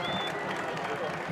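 Crowd at a high school football game, Windsor vs DeSoto, cheering and applauding at kickoff, a steady dense wash of clapping and voices throughout with talk mixed in.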